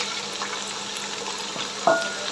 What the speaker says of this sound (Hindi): चिकन को अच्छे से फ्राई होने दें।